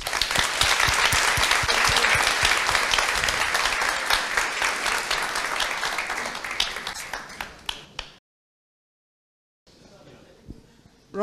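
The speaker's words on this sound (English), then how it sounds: "So Rob, once again, a round of applause." Conference audience at a Brit Talks 2017 event applauding, dense sustained clapping that thins and fades out after about eight seconds, followed by silence and then faint room noise.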